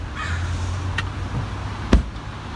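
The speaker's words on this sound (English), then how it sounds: "the crow's our state bird" A crow gives two short, harsh caws about a second apart, the second louder and closer, over a low steady outdoor background hum.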